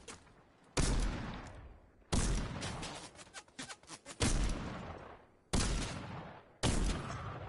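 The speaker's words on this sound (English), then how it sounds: "He's shooting at us." Rapid bursts of gunfire from the video game Fortnite, five loud broadband volleys each followed by a decaying tail, with denser crackling shots in the middle stretch.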